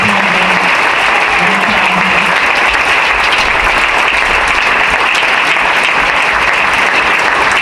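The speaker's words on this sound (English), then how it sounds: "One more round of applause for our fantastic" A loud, sustained round of applause from an audience at a students' holiday performance, packed clapping that runs without pause from start to finish, with a brief tone near the start.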